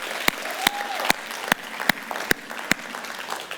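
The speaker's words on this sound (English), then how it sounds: "let me give y'all a round of applause real quick" A church congregation applauds its youth leaders, a modest, even patter of clapping with several sharp claps standing out nearby.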